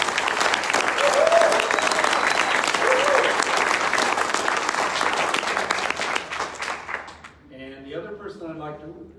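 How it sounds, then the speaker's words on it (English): Audience at a Houston Audubon gathering applauds a retiring staff member, loud sustained clapping for about seven seconds before dying away as a speaker resumes talking. "I'd like to give her a round of applause"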